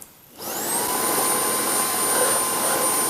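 A Trouver Power 11 wireless vacuum cleaner starts up after a brief quiet moment, then runs with a steady, loud, close high-pitched whine and airy roar, alone.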